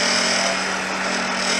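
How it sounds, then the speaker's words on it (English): Wood lathe spinning a turned wooden vessel as it is hollowed out slowly, a loud steady whirring hum with the harsh scrape of the cutting tool on the wood, close and with no talking. "Last thing you want to do is get in a hurry when hollowing something like this"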